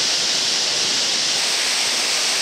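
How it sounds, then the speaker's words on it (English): Glacier-fed waterfall in Elk Lakes Provincial Park, a drop of over 340 metres, heard up close as a loud, steady, broadband roar of falling water with no pauses or other sounds. "That refreshing, cooling mist that only a glacier-fed waterfall can give you"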